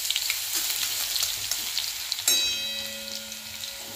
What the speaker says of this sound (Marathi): गॅस कमी करून घेऊन वाटलेलं लसण टाकायचं आहे